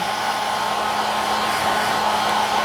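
A pet grooming dryer blows steadily during a full grooming session for a Coton de Tulear, a loud continuous whooshing hum with no break and no voices.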